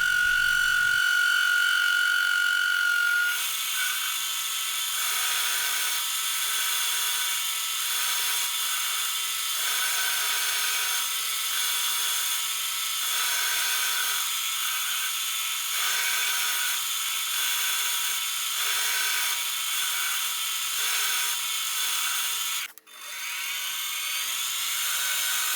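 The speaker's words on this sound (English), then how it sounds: "Now I'm going to trim down the ring to make it thinner on your finger." A rotary tool trims down a copper ring, giving a continuous high-pitched whine that holds steady close by for over twenty seconds, with a brief dip near the end.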